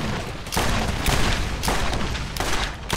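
Gunfire in the video game Borderlands, a loud, close, continuous barrage of rapid shots with heavy booming bursts that swell and fade in waves.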